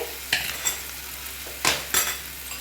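Spices are stirred into a potato and onion curry in a pan: a few distinct scraping strokes of the spoon, each with a brief clatter, over a low background sizzle, heard close and with nobody talking.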